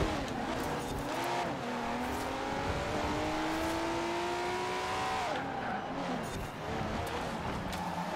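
Video-game car drifting around a small circuit in Forza Horizon 4, engine tone rising and sliding in long sweeping pitch bends under a steady loud roar with tire noise, continuous throughout and without talk.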